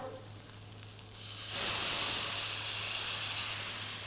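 Water poured into hot masala for chicken zafrani biryani sets off a sudden loud hissing sizzle and burst of steam that stays steady and close after a quieter frying start.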